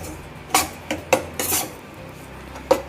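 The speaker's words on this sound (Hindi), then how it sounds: "तो आटे को मैं लगातार चलाते हुए भून रही थी, बिल्कुल लो फ्लेम पर" A spoon or spatula stirs wheat flour roasting in desi ghee in a pan over a very low flame, giving a handful of sharp metallic clinks and scrapes at irregular intervals against a quiet background.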